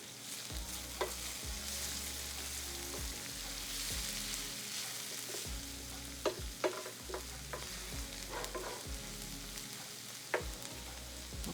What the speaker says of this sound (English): Got about a tablespoon of butter going in here.